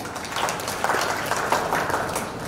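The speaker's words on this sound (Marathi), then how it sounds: "गार्गीसाठी जोरदार टाळ्या" An audience claps for a child who has just recited a poem at a Ganesh festival poetry gathering, a dense, even burst of applause lasting a couple of seconds with no one speaking over it.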